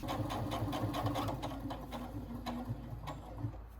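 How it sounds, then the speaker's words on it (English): A sewing machine stitches a seam along a fabric tissue box cover, a fast, even mechanical chatter close by that pauses briefly and starts again. "I sewed one side and it worked, so I'm seaming the other side now."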